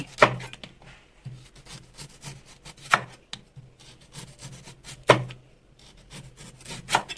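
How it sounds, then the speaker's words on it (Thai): A knife slices bamboo shoots thinly on a board in slow, repeated strokes, with sharp chopping taps every couple of seconds and soft rubbing between. "ทีนี้เราก็จะค่อยๆหั่นให้เป็นแผ่นบางๆ นะคะ"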